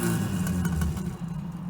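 A 1989 Fiat Uno 45S with a 1 litre engine and standard exhaust revs with a throaty, rough drone that holds for about a second before dipping, with no talk over it.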